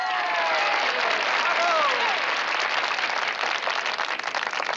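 Audience applause greeting a jazz singer at a club performance, dense sustained clapping with a crowd murmur and a brief vocal or instrumental tone sliding underneath early on.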